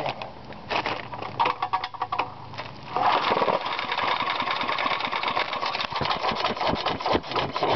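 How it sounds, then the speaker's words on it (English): A Briggs & Stratton flywheel engine with a clear valve cover, its intake valve worked by air with no return spring, chugs irregularly through a start attempt, with a louder steadier stretch partway through. "I don't seem to have much luck trying to start it here with the intake valve just being operated by air and no return spring"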